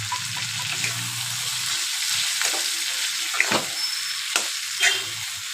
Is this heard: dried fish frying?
yes